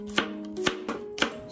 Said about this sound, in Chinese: 准备一些大蒜，切成蒜片